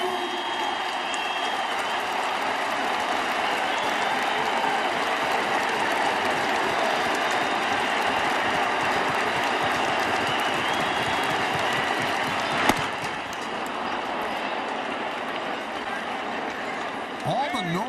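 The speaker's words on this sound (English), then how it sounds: "This is one loud crowd." A loud baseball stadium crowd roars steadily throughout, with one sharp crack partway through, while a commentator talks over it.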